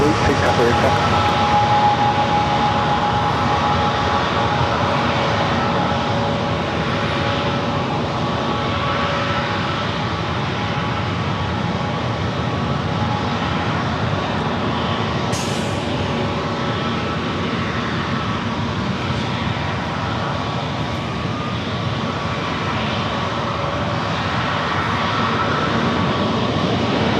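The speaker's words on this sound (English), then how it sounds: "And that is a ATR" An ATR turboprop taking off from San Diego airport gives a steady, broad engine roar that holds loud for nearly half a minute, with a thin sustained tone riding on it and a voice speaking faintly underneath.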